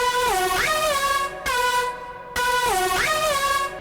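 A heavily distorted vocal chop synth layer in FL Studio repeats a buzzy, formant-like phrase with a rising and falling pitch bend, played twice with a short gap, loud and alone.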